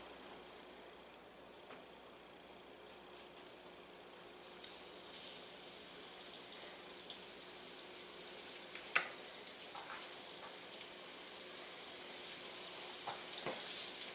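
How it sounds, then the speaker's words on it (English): Chicken pieces for butter chicken frying in hot oil, a steady soft sizzle and crackle throughout with occasional sharper pops and light stirring clatter, fairly quiet and without talk. "Let's get them in the hot oil."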